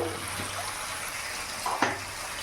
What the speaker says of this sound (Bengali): এই বাটি ধোয়া জলটা আমি দিয়ে দেবো